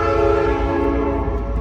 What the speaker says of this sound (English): There's a train coming as well.